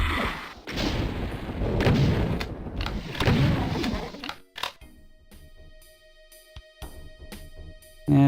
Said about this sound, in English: Go ahead and use as many rockets as I can here.